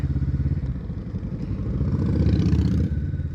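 A Harley-Davidson motorcycle rolls past on the road, its engine rumbling steadily and growing louder as it nears before dropping away at the end, with no talk over it.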